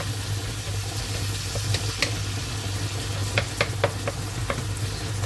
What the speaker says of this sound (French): on mélange bien, on laisse bien cuire